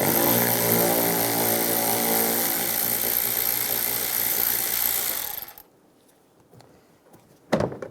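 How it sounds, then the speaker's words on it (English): On a 2007-2013 Chevrolet Silverado, a power tool with a 10mm socket runs a headlight bolt out in a steady, loud, close whine that stops abruptly, followed by quiet and one brief clatter. "Take those out and take this bolt out. Use a 10mm socket."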